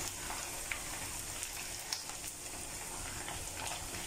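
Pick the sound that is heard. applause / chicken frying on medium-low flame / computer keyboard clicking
chicken frying on medium-low flame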